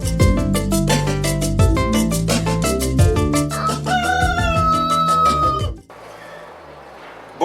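A rooster crows loudly and close, one long drawn-out cock-a-doodle-doo filling most of the moment before cutting to quieter background noise.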